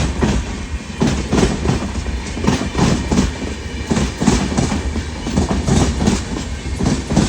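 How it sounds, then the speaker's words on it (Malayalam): The Thiruvananthapuram–Secunderabad Sabari Superfast Express, train 20630, rolls into platform 1 at Ottapalam railway station, loud and close, with a steady rhythmic clickety-clack of wheels over rail joints throughout. "train number 20630 Thiruvananthapuram Secunderabad Sabari superfast express will arrive shortly on platform number 1."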